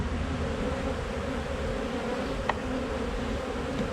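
Dense honey bees pour out of a hive entrance, a thick steady buzzing drone filling the scene at close range with no voices, one brief tick near the middle.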